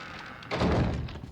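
A door slams shut in the Resident Evil 7 video game, one dull heavy thunk midway that fades quickly into quiet.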